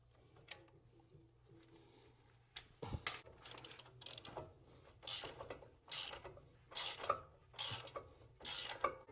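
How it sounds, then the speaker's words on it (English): A ratchet loosens the brake caliper bolts on a 2021–2024 GMC Yukon XL Denali during a front pad and rotor job, giving repeated bursts of close, loud clicking, with faint mechanical rubbing before it starts. "I'm gonna remove these bolts that are holding the calipers."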